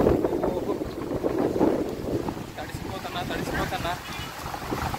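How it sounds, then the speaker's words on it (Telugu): Strong gusting wind with rain starting outdoors, a dense rushing roar buffeting the microphone continuously up close, with a voice faintly mixed underneath. "వర్షం స్టార్ట్ అయ్యింది. గాలి మాత్రం బీభత్సంగా వేస్తున్నాను ఫ్రెండ్స్."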